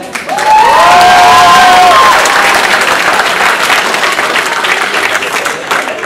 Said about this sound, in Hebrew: מחיאות כפיים למלאך השומר שלנו